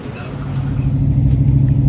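An old tow truck rumbles along on the road with a steady, loud, close low engine drone that builds slightly, with no talk over it.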